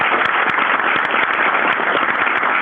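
Continuous, loud applause from an audience for choir students at a Board of Education meeting, an even wash of many hands clapping with no talk.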